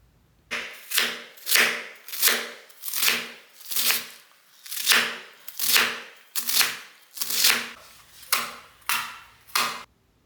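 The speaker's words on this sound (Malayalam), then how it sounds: "ചെറുതാക്കിയിട്ട് തന്നെ അങ്ങനെ കത്തിയോണ്ട് തന്നെ അരിയണം" A knife chops leafy greens in a steady rhythm, about a dozen crisp, close strokes with brief pauses between them, with no talking.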